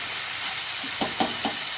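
Chicken frying in a pan gives a steady bright sizzle, and three short scraping strokes of stirring follow close together near the end.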